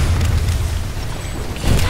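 A generator blows up in Planetside 2 during an assault on a Terran Republic tech plant, a dense low boom that rumbles on at steady loudness, then swells again near the end.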